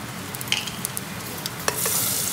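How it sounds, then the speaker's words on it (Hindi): Whole bay leaves, cinnamon, cloves, cardamom and cumin sizzle and crackle in hot oil inside a pressure cooker, with soft stirring scrapes and small pops, growing louder near the end. "अब हमें कुकर तेल में ऐड करना है तेज़पत्ता, दालचीनी, लौंग, इलायची और ज़ीरा।"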